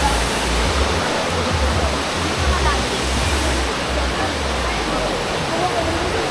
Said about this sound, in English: Welcome to the waterfalls.